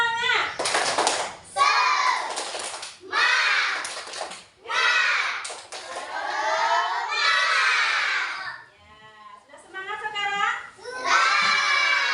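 Children in a classroom chant and clap together in a rhythmic 'tepuk semangat' pattern, bursts of young voices and hand claps alternating with short pauses, loud and close, with a teacher leading.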